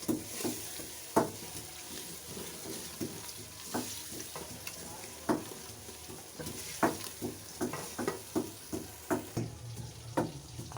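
Tomato masala frying in a pan for an aloo katli salan, a soft continuous sizzle broken by a dozen or more short scraping stirs that come faster toward the end, close and alone without speech.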